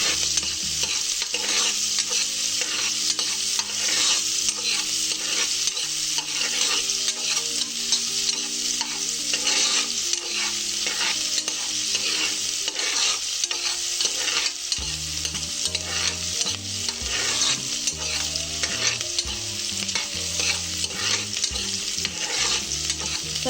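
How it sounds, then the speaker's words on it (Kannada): Onions frying and being stirred in a pan for chicken curry: a steady, loud sizzle runs throughout with repeated scraping stirs, and no voices are heard. "ಸ್ವಲ್ಪ ಕೆಂಪಗೆ ರೋಸ್ಟ್ ಮಾಡ್ಕೊಳ್ಳೋಣ ಈರುಳ್ಳಿನ"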